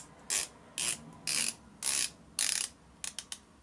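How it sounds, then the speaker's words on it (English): Unidirectional 120-click bezel with aluminium insert on a Certina DS Action quartz diver's watch, rotated in short bursts of rapid ratcheting clicks, close and crisp, five longer turns followed by a few single clicks, with no talking. "you've got an aluminium insert on the bezel, which is 120 click bezel"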